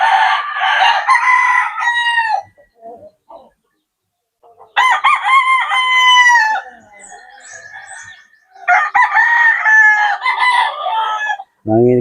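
Roosters crowing in a backyard where gamefowl are bred for cockfighting, several long loud crows near and overlapping, with clucking and other fowl sounds in between.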